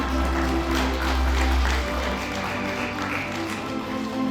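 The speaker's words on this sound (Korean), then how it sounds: "여러분 큰 박수 부탁드리겠습니다" Audience applause at a Gyeongsangbuk-do international AI and metaverse film festival opening reception, a steady dense wash of clapping that fills the hall throughout at a fairly even level.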